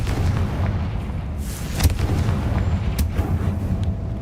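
Spell-impact blasts in a wizarding video game, a fire-type Confringo cast going off as sharp booming bursts, a couple of distinct hits over a rumbling background with no talking.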